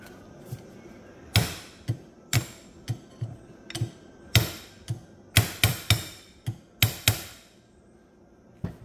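Hammer blows driving something in to break the suction on an RCV axle shaft, an irregular series of sharp metallic knocks and taps of varying force, close and unaccompanied by talk.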